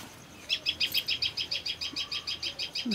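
Birds in a home garden give a rapid series of about fifteen sharp, evenly spaced chirps, fairly close and clear over quiet background, with no talking.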